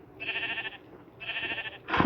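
Sheep in a block-building video game bleat twice in short, buzzy calls separated by a pause, clear and moderately quiet, with a brief sharper sound at the very end.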